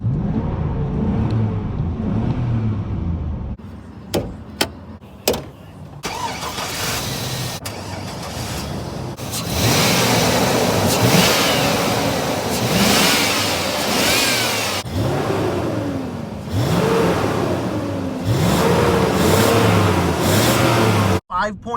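A 2001 GMC Sierra 1500 pickup with a V8 engine revs and accelerates, a loud mid-pitched engine drone rising and falling in several surges over steady road noise, with a voice speaking briefly near the start.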